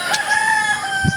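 A rooster crows nearby in a short, loud, sustained cock-a-doodle-doo, and a couple of low clucks follow at the end.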